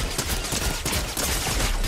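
Rapid bursts of automatic gunfire in a Fortnite battle royale match, loud and continuous with closely spaced shots running the whole stretch.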